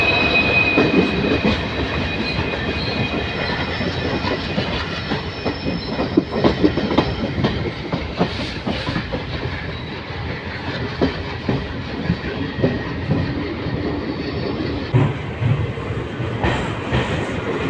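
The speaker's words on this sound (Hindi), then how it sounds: "धीमे धीमे ट्रेन अब प्लेटफॉर्म की तरफ बढ़ रही है" Bagh Express, a passenger train, rolls slowly into Kathgodam station from the outer, with continuous close rumbling, rhythmic wheel clacks over rail joints and faint metallic squeals, steady throughout.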